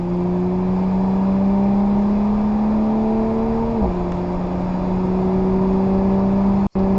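An Audi S5 engine drones steadily at high revs on the A1 Motor Park race track, pitch climbing slowly, dipping briefly around a gear change, then holding loud and close until a sharp cut near the end.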